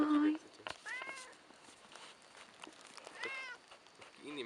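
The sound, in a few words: cat meowing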